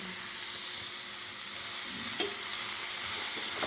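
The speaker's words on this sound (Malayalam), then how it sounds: "ഇതെല്ലാം കൂടെ ഒന്ന് നമുക്ക് നന്നായിട്ടൊന്ന് മിക്സ് ചെയ്യാം" Beetroot fries in a pan for a Kerala-style stir fry, giving a steady close sizzle with soft scraping and stirring sounds, and no voices.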